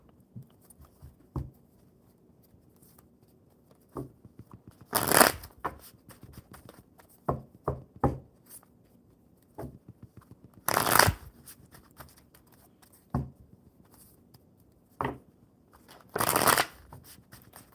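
A deck of tarot cards is shuffled in bursts, with several loud riffling rushes among soft taps and card handling in a quiet room and no talking.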